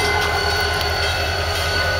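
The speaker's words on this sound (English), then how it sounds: "Pulling into the revealing area is the Chicago Northwestern 6847." Chicago and North Western 6847 diesel locomotive pulling in at a railroad museum parade, a steady loud rumble with a droning engine hum and faint rail noise, no voices.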